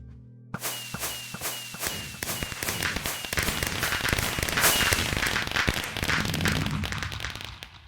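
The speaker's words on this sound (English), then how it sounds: "So step by step, the fireworks will go off, reaching finally to the great finale." A chain of fireworks in a video game contraption goes off step by step: rapid crisp pops and cracks in quick succession build into a dense crackling finale, loud and close.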